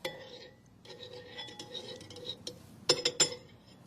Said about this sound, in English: So we're just going to stir this up a little bit.